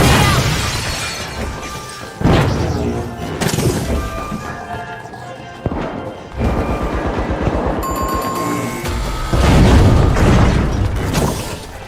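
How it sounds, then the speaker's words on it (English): A sonar grenade goes off during a match of The Finals, amid a dense run of loud booms, shattering crashes and bursts of game action that last the whole stretch, with no talking. "Sonar grenade out!"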